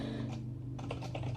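Computer keyboard keys clicking in short bursts while a file is edited in the Vim text editor, close and moderately quiet over a steady low hum, with no one speaking.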